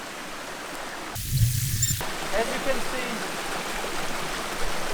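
A river stream runs through a motorbike trials section, a steady broadband rush of flowing water up close, with someone talking over it and a brief louder burst.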